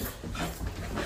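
A dog pants close by, quick breathy huffs running steadily through a short burst, over a noisy background of a road trip outing.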